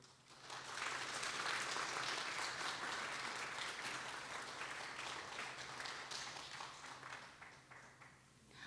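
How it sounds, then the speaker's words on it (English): An audience applauds a quartet at a Taiwan National Day celebration in New York, a steady wash of clapping that swells quickly, holds for several seconds and tapers toward the end, with a faint low hum beneath. "Let's give them another round of applause."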